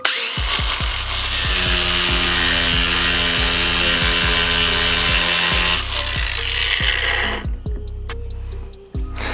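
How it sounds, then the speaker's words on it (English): An angle grinder cuts through screws holding aero parts on a Mitsubishi Evo 9, with a loud, steady high whine lasting several seconds that then drops away into clicks and light handling noises. "I just go ahead and cut all the screws with the grinder so I can remove them a lot easier"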